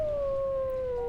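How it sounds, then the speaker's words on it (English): Wolves in the video game WolfQuest howl together as a pack, a single sustained tonal howl slowly falling in pitch with a fainter harmonic above, heard alone and fairly clear. "Go ahead and do a nice howl with everyone."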